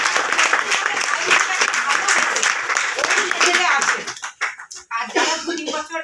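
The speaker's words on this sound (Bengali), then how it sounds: "একবার তাদের জন্য হাততালি হয়ে যাবে।" Audience applause at a gathering, dense steady clapping from many hands that thins out and breaks up toward the end, with voices heard as it fades.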